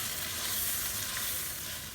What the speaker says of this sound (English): I'll let this coconut milk simmer in this.